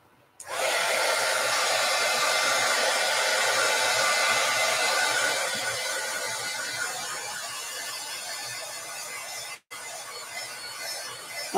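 A hair dryer blows steadily and loudly on paint on a journal cover, its whirring airflow continuous for about ten seconds, easing slightly in level midway, with a brief cutout near the end.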